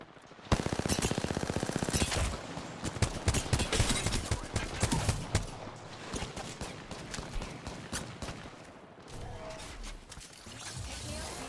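Hip-fired gunfire in the video game Apex Legends: loud, rapid automatic bursts that crowd the opening seconds and then break into scattered shots and impacts, with game effects layered underneath.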